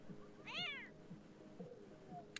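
Cat meowing in The Sims 4, one clear, close meow followed by softer faint murmurs and a brief click, quiet and alone.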